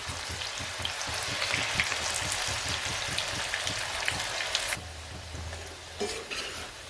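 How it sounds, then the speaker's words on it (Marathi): Soybean fritters (bhaji) deep-fry in hot oil, a dense, steady crackling sizzle that holds for several seconds, then thins out and turns quieter near the end. "आता व्यवस्थित तळलेत आणि कलर पण छान आलाय"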